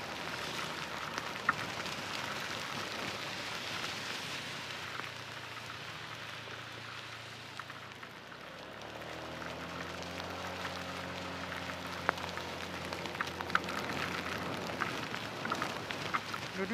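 Steady rain pours down during a motorbike ride, a dense hiss that stays even throughout, with a low engine drone rising and shifting partway through.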